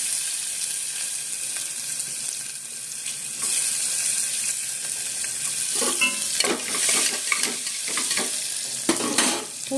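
Chopped garlic added to hot tempering oil with mustard seeds, cumin and chillies in a home kitchen, giving a continuous sizzle with a few louder bursts and stirring scrapes toward the end.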